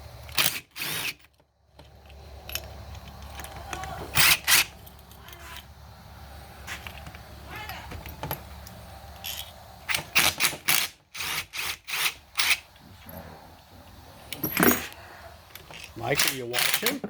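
Bolts are loosened one after another to split a Honda CR85R engine case, giving sharp ratcheting clicks and metallic taps in irregular bursts with quiet gaps, close by.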